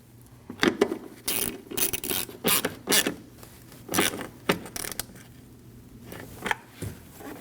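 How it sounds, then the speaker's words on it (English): Two 10mm bolts being snugged on a 2003-2008 Subaru Forester liftgate support: a run of close metallic ratchet clicks and clinks in uneven bursts, with no talk. "Now you can install your two 10mm bolts. Just give them a snug."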